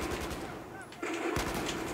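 Rifle fire in the video game Battlefield 4, rapid bursts of gunshots with a distant-sounding battle texture, a pause mid-clip, then more shots.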